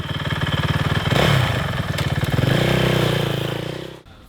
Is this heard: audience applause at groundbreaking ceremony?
no